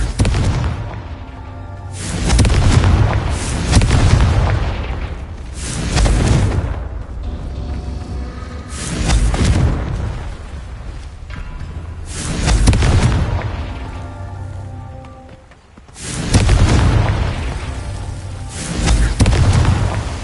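Repeated deep booming blasts from Confringo fire spells in the video game Hogwarts Legacy on PS5, four heavy explosions spaced a few seconds apart, each with a loud rumbling tail, no talking.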